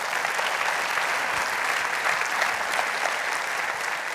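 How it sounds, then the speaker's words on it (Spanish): A church congregation bursts into sustained, even applause, a thick, continuous wall of clapping that holds steady at full volume from start to finish. "den un aplauso a Dios"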